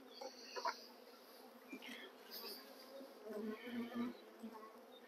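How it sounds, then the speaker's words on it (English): Honey bees buzzing around an opened hive with combs and a feeder on a chilly day, a steady soft swarm hum with a few louder passes close by. "You see all these bees?"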